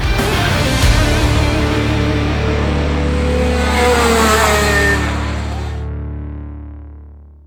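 A go-kart with a 2024 Rotax Max Senior engine revs hard on an old-school track, a loud buzzing drone that rises in pitch, then fades away as the kart moves off into the distance.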